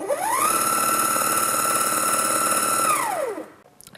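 An Evolve electric R/C skateboard motor at fast speed rises into a high, steady whine, holds it for a few seconds, then winds down and fades out.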